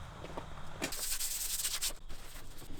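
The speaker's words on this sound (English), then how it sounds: "if you press too hard on the sandpaper, it'll scratch the paint" Sandpaper rubbed by hand over painted metal on a vintage dumbbell being restored, giving a steady close scratchy rasp in a few quick strokes with no talking.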